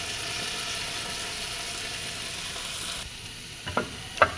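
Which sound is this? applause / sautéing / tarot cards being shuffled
sautéing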